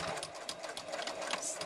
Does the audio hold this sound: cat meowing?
no